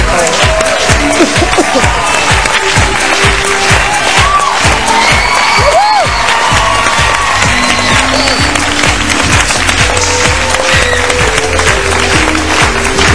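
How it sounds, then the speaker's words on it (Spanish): A large television studio audience claps loudly and continuously, with cheers and whoops mixed into the dense applause throughout. "Fuerte aplauso, por favor."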